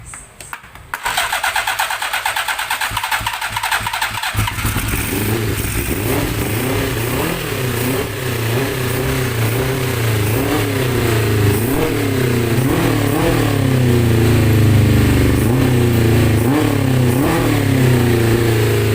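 A Suzuki Bandit 400 motorcycle with hard-starting trouble and dirty carburetors cranks, catches and settles into a loud, uneven idle with repeated rising revs, close by and continuous for the whole stretch.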